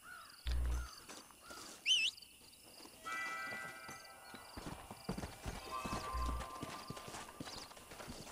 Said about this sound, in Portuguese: Mais um cavalo.